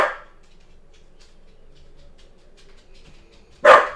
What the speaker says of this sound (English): Max, what are you barking at?